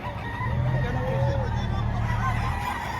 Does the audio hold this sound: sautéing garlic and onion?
no